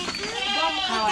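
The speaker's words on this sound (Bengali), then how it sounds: "এটা আমাদের ছাগল" A goat bought for Eid al-Adha sacrifice bleats once in a drawn-out, wavering cry close by, with a person's voice speaking around it.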